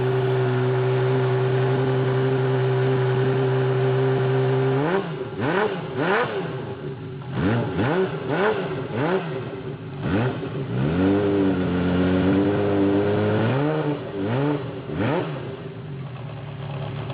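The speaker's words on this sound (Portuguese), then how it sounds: "primeira é a moto com ronco de Fórmula 1, Honda CBX 1050, também chamada de CBX 1000." A Honda CBX 1050 six-cylinder motorcycle idles steadily at first, then revs repeatedly in sharp rising and falling bursts, loud and close, with no talk over it.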